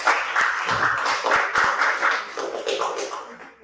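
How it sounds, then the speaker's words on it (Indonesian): A classroom group applauding a student named Hadi during a vocational automotive lesson, a brief burst of scattered hand claps of moderate loudness that thins out over a few seconds in a small room. "Beri aplaus untuk Hadi."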